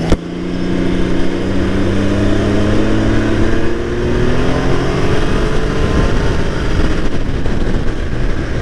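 A 2020 Can-Am Ryker 900 three-wheeler with an inline-three engine revs loudly and continuously at close range, its pitch climbing and sweeping through the rev, with no talking.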